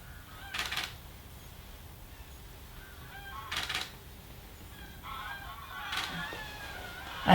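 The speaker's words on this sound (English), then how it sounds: "some geese coming over" Several geese honk in short bursts as they fly over an outdoor wildlife patch, the calls fairly distant and spaced out, with a quiet hiss of background ambience between them and no talking.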